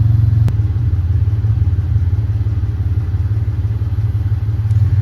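A 1995 Mitsubishi 3000GT engine, burning oil after a rebuild, idles with a steady low, pulsing rumble, close by and even throughout, with a brief click near the start.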